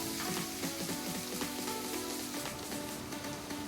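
Onion, papaya and potato sautéing in a pan for a papaya poriyal, a steady close sizzle with faint scattered crackles and light stirring scrapes, no talking.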